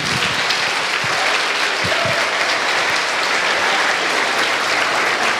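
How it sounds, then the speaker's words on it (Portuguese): Church congregation applauding, a dense, steady wash of clapping filling the room at full volume from start to finish, with almost no voices over it. "Aplauda o Senhor."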